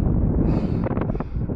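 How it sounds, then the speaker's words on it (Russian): Strong wind buffets hard and close, roaring as a broad, steady rush with gusty surges over the short stretch. "Вот дует, какой ветер сильный"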